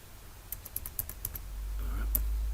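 Keys clack on a computer keyboard in a short burst of about eight quick taps, close but quiet, followed by a low hum and a single final click.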